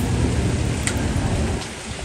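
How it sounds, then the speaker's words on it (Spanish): Heavy rain pours steadily, a dense broadband hiss that fills the whole clip, easing slightly near the end. "Mira nomás cómo está lloviendo aquí"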